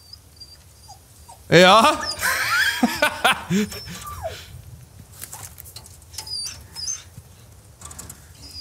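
A dog whimpers and yelps in high, wavering cries in the video game Resident Evil 4, a cluster of close whines over a low rumble, with someone talking briefly.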